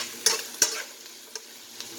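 Spaghetti frying in a pan, sizzling steadily at a soft level while being stirred, with a few sharp scraping clicks of the utensil against the pan, no talking.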